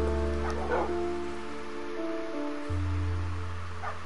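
A dog in a Minecraft game gives a couple of short yips or barks, faint and brief, over steady rain and a low continuous background hum, with no talk.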